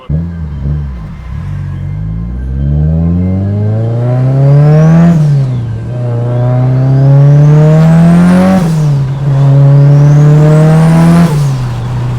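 A Mitsubishi Lancer Evolution VIII engine revs hard through repeated rising sweeps while driven, climbing in pitch then dropping at each gear change, loud and close with no talking.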